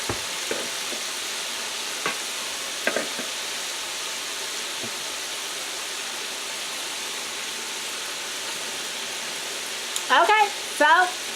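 Chicken wings fry in butter with a steady low sizzle, joined by a few faint stirring knocks and, near the end, brief squeaky scrapes.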